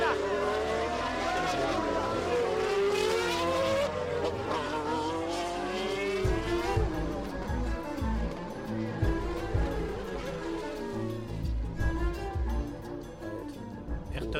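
Formula One cars roar off the start of the Brazilian Grand Prix in the rain, a dense loud wall of rising, overlapping engine whines that gradually thins as the pack pulls away, with excited commentary over it.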